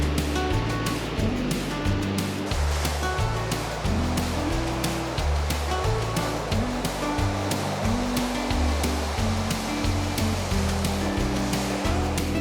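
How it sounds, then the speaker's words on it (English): Surf waves break on a beach with a continuous heavy roar and rushing wash, loud and close, with churning water filling the whole stretch and no voices over it. "I wait for a gap between sets of bigger waves before wading out to cast"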